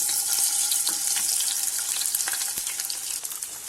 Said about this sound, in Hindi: So I'm frying these aloo.